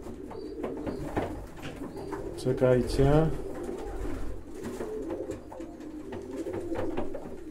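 A pigeon coos in soft, rolling bursts close by, the loudest run in the middle, while someone talks over it for most of the stretch.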